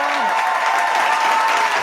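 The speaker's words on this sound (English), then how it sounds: "We got cheers and some clapping." A played-back recording of applause and cheering fills the room at a chat show, a loud, continuous wash of clapping hands and crowd cheers with a brief tone sliding down at the start.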